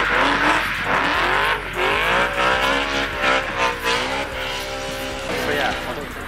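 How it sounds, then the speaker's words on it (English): A V8 BMW E92 drift car drifts nearby, its engine rising and falling in harsh revs over wavering tire squeal, loud throughout with brief dips. "it's an E92 drift car"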